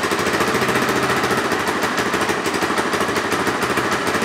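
Loncin JL250GY motorcycle engine, started cold without the choke, held at a light throttle: a loud, close, rapid mechanical pulsing with a fairly steady pitch throughout.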